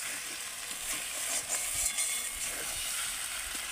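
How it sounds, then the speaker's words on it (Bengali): Fried potato and eggplant are stirred slowly into a sizzling spice paste in a pan, with a steady hiss of frying oil and soft scraping strokes from the spoon, close up. "যেহেতু আমি বেগুন দিয়েছি সেজন্য এরকম আস্তে আস্তে নাড়বো আর ভালো করে কষিয়ে নেব।"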